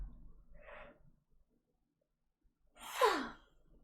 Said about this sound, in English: there's gonna be a big yawn